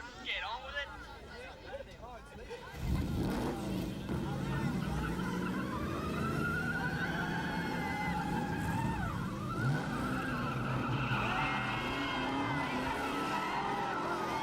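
Cars at an illegal street race in a film rev and squeal, with engine whines rising and falling over crowd noise after a quieter opening, loud and sustained.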